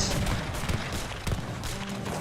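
Gunfire and cannon support fire in a real-time strategy game battle, a burst of layered shots and heavy booms clustered early and again midway, loud and close without speech.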